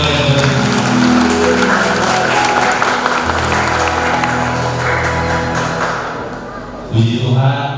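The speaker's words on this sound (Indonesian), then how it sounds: "Kita berikan tepuk tangan untuk keluarga yang baru" Wedding guests applaud the newlywed family at a church blessing, a loud crowd of clapping that swells early, slowly thins and fades, then briefly surges again near the end.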